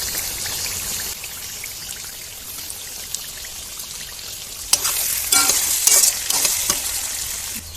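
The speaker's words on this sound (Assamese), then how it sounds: "এতিয়া মাংসখিনি ঢালিম, সব মছলা লগাই দিম।" Chicken meat with spices cooking in a hot pan, a steady frying sizzle throughout with louder bursts of stirring and scraping near the end, close and alone.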